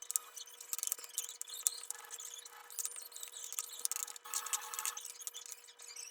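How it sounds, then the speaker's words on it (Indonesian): Garlic being thinly sliced and then finely minced with a knife on a cutting board while preparing stir-fried green beans and tempeh, heard as quick, irregular scraping and tapping strokes, fairly faint and close, with no talking. "Lakukan hal yang sama dengan bawang putih, iris-iris tipis dan kemudian cincang halus juga."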